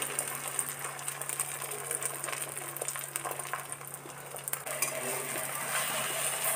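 An egg omelette with oil and onion frying in a wok, stirred with a utensil that scrapes and clicks repeatedly against the metal over a constant soft sizzle.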